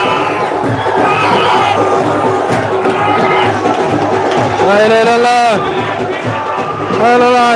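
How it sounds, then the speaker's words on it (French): Football supporters of ASC Dounia cheer and shout at the stadium in Rosso during a regional-phase match, a dense, loud crowd roar throughout with rising whoops and a voice exclaiming over it. "Applaudi par ses supporters de l'ASC Dounia."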